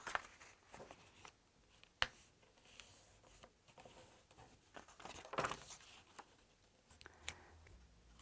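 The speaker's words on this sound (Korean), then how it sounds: "부록에 있는 액자를 뜯어볼게요. 먼저 접는 선을 따라 액자를 접어주세요." Paper picture frame being torn out of a workbook insert and folded along crease lines, with scattered soft rustles, crinkles and sharp little snaps close up, quiet and irregular, no talking.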